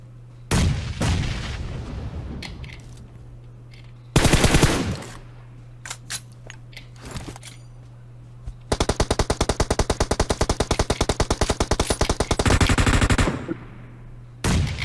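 Gunfire in the mobile battle royale game PUBG Mobile: loud single shots and short bursts, then a long sustained automatic volley, over a steady low hum, with no speech.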